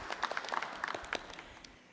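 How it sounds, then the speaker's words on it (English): Scattered applause from a small, socially distanced audience at a United Way campaign kickoff event, individual claps distinct and uneven, fading out toward the end. "round of applause."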